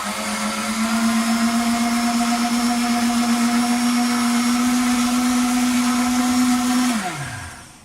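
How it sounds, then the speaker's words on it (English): Kitchen blender whirring steadily at high speed while mixing a protein shake, a loud constant motor drone that cuts off near the end and winds down to silence. "I've actually checked this blender out several times."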